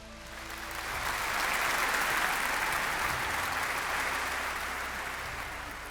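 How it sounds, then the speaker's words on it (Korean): Sustained audience applause at a Crown Master promotion ceremony, swelling after a second and holding as steady broadband clapping from a large crowd before easing slightly toward the end. "회장님께 진심으로 감사의 박수를 보내드리고 싶습니다."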